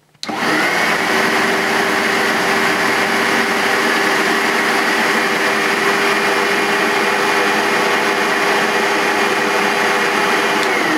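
A Sebo X1 upright vacuum cleaner fitted with a replacement head runs steadily after a brief start, a loud, continuous whine and airy roar holding an even level throughout with no talking.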